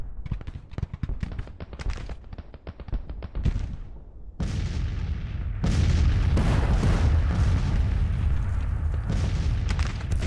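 Napoleon cannon batteries and musket fire in Grand Tactician: Civil War, a rapid string of sharp crackling shots giving way to heavy, rumbling artillery booms that blend into a continuous loud barrage.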